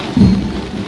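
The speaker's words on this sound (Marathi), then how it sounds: "तेव्हा जो एवढा पाऊस पडतोय हो" Heavy rain pours down during a Ganesh immersion procession in Morigaon, a dense steady wash of noise with a brief low rumble near the start.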